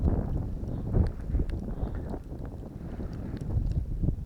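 Gusty wind roars and buffets the microphone during a winter snowstorm while ice fishing on a frozen lake, a rough low rumble that swells in gusts with no talking.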